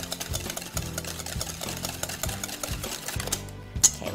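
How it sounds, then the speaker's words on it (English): A mixer whirs with a fast, rhythmic mechanical chatter as sweetener is beaten into a lemon protein bar mixture until frothy, running steadily and close up with no talking. "Gonna mix that together really well. Wanna get it till it's like kind of frothy."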